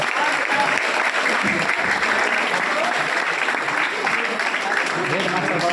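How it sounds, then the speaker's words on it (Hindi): Dense, sustained applause from a college auditorium audience welcoming a guest at a student orientation ceremony, steady and fairly loud throughout with no pauses. "आप सब लोग कर्तव्य ध्वनि से अभिनंदन करें,"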